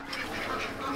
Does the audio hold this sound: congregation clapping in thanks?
no